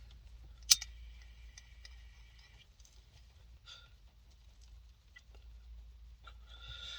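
A chicken clucks faintly and intermittently nearby, with a sharp click early on and scattered soft calls against a quiet low rumble.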